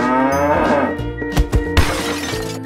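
A cow moos with a long, low, drawn-out call, followed by a few heavy thuds and a brief crash.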